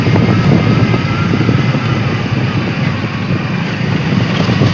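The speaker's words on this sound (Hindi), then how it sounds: "ऐसे ही टेढ़े मेढ़े रास्तों में बाइक चल रही है अपनी" A motorcycle rides along a winding Himalayan mountain road during the monsoon, its engine a steady low rumble mixed with constant wind buffeting the microphone, loud and close throughout with no voices.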